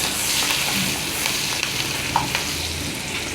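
Green chillies and curry leaves sizzle in hot oil in a kadai, a steady loud crackle with occasional sharper pops, close up and without speech.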